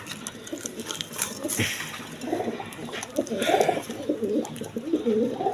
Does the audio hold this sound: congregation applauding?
no